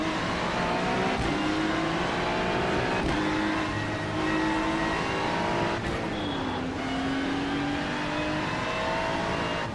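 NASCAR Cup cars in the iRacing game roar away at the green flag start at Las Vegas, a loud continuous engine drone with rising revs and gear shifts, several cars bunched together.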